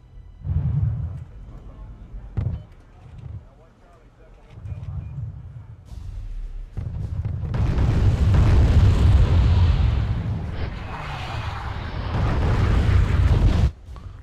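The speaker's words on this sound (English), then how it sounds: "I'm actually going to start shelling this forest right here because I know that they have so many things packed in there" Artillery shelling a forest in the video game Wargame AirLand Battle: low booms and explosions that swell into a sustained rumbling barrage, loud and continuous, with someone talking over the start.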